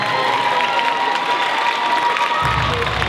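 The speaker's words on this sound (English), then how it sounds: "How about a round of applause for everybody up here?" Audience at a Heiva Tahitian dance competition in San Diego applauding the 50+ solo dancers, a dense continuous roar of clapping and cheering from a large crowd, loud and sustained throughout.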